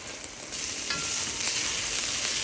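Onion and garlic sauté in a pan, giving a bright, continuous sizzle that swells louder after a brief quieter start and holds steady to the end.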